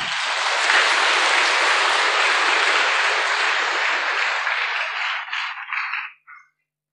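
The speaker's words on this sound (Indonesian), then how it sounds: "Tepuk tangan untuk Pak Nur Hasan." An audience claps at a religious gathering, a loud, dense burst of applause that holds steady, then thins into a few scattered claps and stops abruptly near the end.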